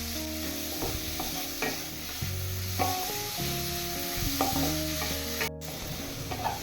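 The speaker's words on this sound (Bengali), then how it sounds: "এবার পেঁয়াজের সাথে টমেটো কুচি আর বিটরুট ভালো করে মিশিয়ে নেব।" Onion, grated beetroot and chopped tomato stirred together in a frying pan for pav bhaji, a steady sizzle under repeated scraping spoon strokes, close and continuous with no talk.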